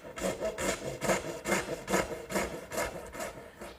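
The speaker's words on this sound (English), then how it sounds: "the remaining cuts for each tenon, I'll simply make with my dovetail saw" A dovetail saw cuts the cheeks of a wooden tenon in a woodworking shop, giving close, regular push strokes about twice a second, each a raspy swish, with no talking.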